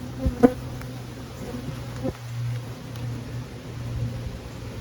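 Honey bees hum steadily around an open hive during a frame inspection, a close, continuous drone with a few louder passes near the start and around the two-second mark.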